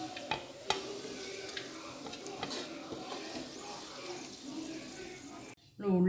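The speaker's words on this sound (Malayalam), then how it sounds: "നമ്മൾ ഉള്ളി നന്നായിട്ട് ഫ്രൈ ആയിട്ടുണ്ട്." Onions frying in oil in a pan for mutton yakhni pulao, with a steady close sizzle, a few clicks of stirring, and a brief pause near the end.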